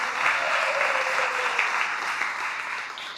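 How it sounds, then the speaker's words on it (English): A large audience at a spiritual talk gives Radhika Ramana Prabhu a warm welcome, dense steady applause filling the hall without pause from start to finish. "Please give Radhika Ramana Prabhu a big round of applause."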